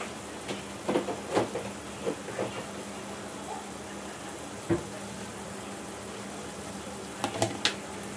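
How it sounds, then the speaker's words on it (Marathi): Masala spice paste frying in oil in a pan, a steady soft sizzle and hiss with occasional sharper pops and clinks scattered throughout. "आता हा मसाला जरा तेलामध्ये फ्राय होऊ दे"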